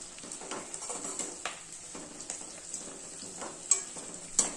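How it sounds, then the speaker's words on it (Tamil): Balloon vine leaves sautéing with salt in a pan, giving a soft crackling sizzle with a few sharp scrapes and taps of a spoon, close and moderately quiet. "இதிலே உப்பு போட்டு வதக்கிக்கலாம்"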